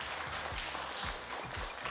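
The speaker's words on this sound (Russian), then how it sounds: "Аплодисменты друг другу." An audience at a marketing and design diploma assessment applauds one another in a dense, steady burst of clapping that fills the whole moment, with no talk over it.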